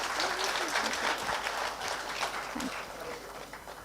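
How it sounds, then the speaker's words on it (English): Sustained applause from an audience at a foundation day event honoring the speakers, continuous close clapping with faint voices underneath. "Can we have a round of applause for all the speakers here?"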